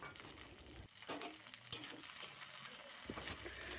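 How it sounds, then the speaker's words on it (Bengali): Sliced okra deep frying in hot oil in a wok, a faint continuous hiss and crackle with a brief stirring scrape midway, all at low level. "কেটে রাখা ঢ্যাঁড়সগুলোকে আমি একটু ডিপ ফ্রাই করব।"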